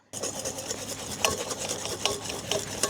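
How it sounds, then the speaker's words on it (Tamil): Red velvet cake batter made from a ready-made mix is stirred by hand in a bowl, a steady close scraping swish with a few sharper clicks of the spoon against the bowl, no voices. "இந்த மிக்ஸை எடுத்து நம்ம வந்து கொஞ்சம் கொஞ்சமாக கொட்டி கிண்டிட்டே இருக்கணும்"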